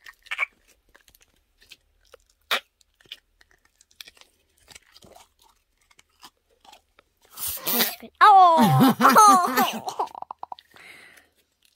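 Glitter putty squelches and pops with wet, fart-like bursts near the end, loud and close, after a stretch of quiet handling and faint clicks; one brief exclamation is heard.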